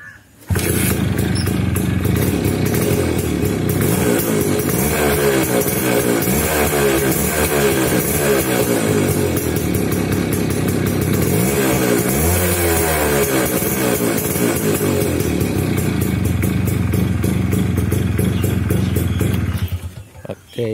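A Suzuki Max100 two-stroke motorcycle, modified in RX100 style, starts up and revs repeatedly close by, its rasping engine rising and falling through sustained throttle blips for nearly twenty seconds.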